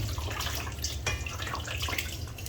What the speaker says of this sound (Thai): ล้างเอาเศษ ฝุ่นเศษผง นะครับ ล้างประมาณสักสองสามน้ำนะครับ